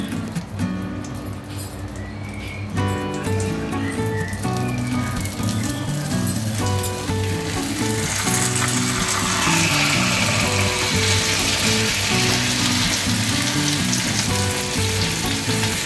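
Chicken pieces frying in melted butter on a tawa over low flame, a steady dense sizzle and crackle that grows fuller and brighter partway through, with faint clatter early on.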